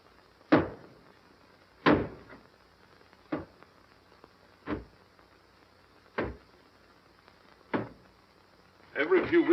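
Heavy blows against a door as it is broken down in the 1938 film Algiers: six loud, evenly spaced thuds about a second and a half apart, then a burst of clattering impacts at the end.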